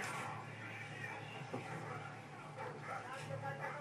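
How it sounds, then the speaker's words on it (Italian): A dog barks in the Call of Duty Modern Warfare 2 video game, short yips and barks mixed into game noise while players talk over it in Italian. "Occhio al cane, che tanto abbeccherà a me."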